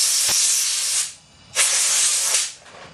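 A compressed air gun blasts in two loud, close hissing bursts, each about a second long, blowing residual fibers off Honda D15B7 engine bottom-end parts in a workshop.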